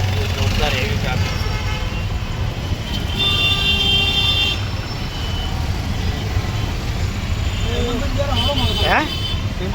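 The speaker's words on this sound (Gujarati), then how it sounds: "જોરદાર એવી ટ્રાફિક." Heavy road traffic roars steadily and loudly, with trucks and cars passing close, repeated horn toots and a reversing beep cutting through the rumble.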